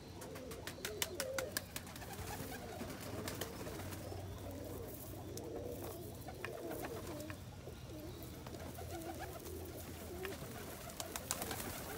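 Pigeons coo nearby in a restless rhythm, with soft flapping and scattered calls at moderate level, as the birds wait eagerly to be fed wheat outdoors.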